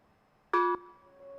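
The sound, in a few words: gong struck to signal time is up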